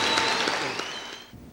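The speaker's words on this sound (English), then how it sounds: "a nice round of applause" A burst of crowd applause at an outdoor factory announcement event, loud and dense at first, then tapering off as the clapping fades near the end.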